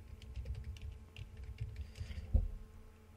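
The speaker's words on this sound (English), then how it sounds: "I can't type without looking at the keyboard." Someone types on a computer keyboard with quick, irregular clicking keystrokes, close and fairly soft, with one sharper key press near the end and no talking.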